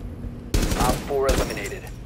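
Gunfire in Rainbow Six Siege during a bomb defuse round, a sudden loud burst of shots that starts partway through and carries on with a second burst, mixed with game voice chatter.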